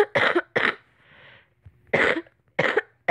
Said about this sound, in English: I have a cough right now, so sorry.